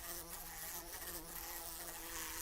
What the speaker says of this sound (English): Can you hear the blue bottle buzzing?